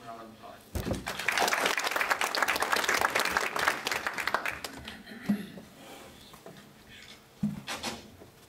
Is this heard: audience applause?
yes